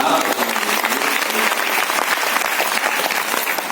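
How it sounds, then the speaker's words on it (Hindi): Audience at a religious bhajan gathering claps loudly for the women's group, a dense, steady burst of applause lasting throughout with no pauses. "एक बार जोरदार ताली महिला मंडल के लिए"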